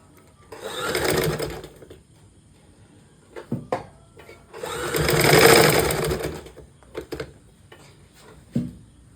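A sewing machine stitches along a shirt edge in two sustained runs, each a rising and falling whir, with clicks and knocks of handling the fabric and machine between and after, close and moderately loud.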